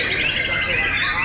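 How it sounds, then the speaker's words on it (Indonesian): A white-rumped shama (murai batu) sings at a bird contest, a loud, continuous warbling run of high whistles and trills heard up close, with possible faint talk beneath. "Kodar KMM yang ke-37 aksi Murai Batu Prabu."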